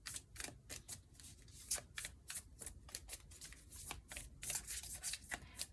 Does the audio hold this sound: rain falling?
no